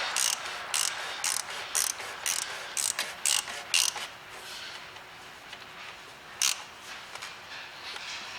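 Ratcheting clicks from a socket wrench tightening a part back onto an Audi A3 1.4T engine during servicing, arriving in quick bursts through the first four seconds, then one more short burst later, close and moderately loud.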